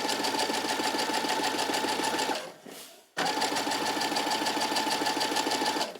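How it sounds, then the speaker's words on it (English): A sewing machine topstitches a tiered skirt at about a 1/8 seam allowance, a steady fast close rattling run that pauses briefly midway and then resumes at the same pace. "And then I'm just gonna top stitch all the way to the side."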